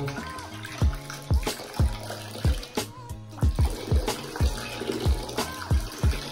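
Cold water pours into a pot in a home kitchen while making iced lemon and peach tea, a continuous nearby splashing and trickling stream broken by repeated low thumping knocks.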